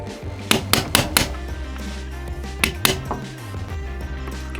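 A rotational pin is tapped into place during an MK18 rifle build: a quick run of sharp metallic hammer taps, then a couple more spaced strikes, close up over a steady hum.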